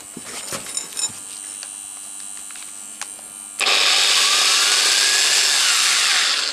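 A few faint clicks and a low hum, then an angle grinder powered by a homemade K176IE12 and IRL2505 inverter suddenly switches on and runs with a loud, steady high whine.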